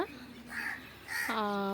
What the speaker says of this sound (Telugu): మన చూసారుగా కాకులు ఎలా అరుస్తున్నాయో.